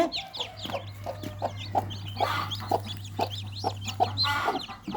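Chicks and a hen of a country (desi) chicken breed clucking and peeping near and moderately loud, with repeated short calls and a low steady hum beneath.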